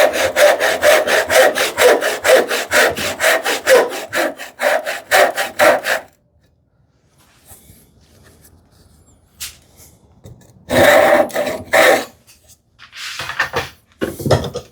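A hand saw cuts through wood in fast, regular rasping strokes for several seconds, stops, then resumes for a few more strokes after a quiet pause with faint handling noise.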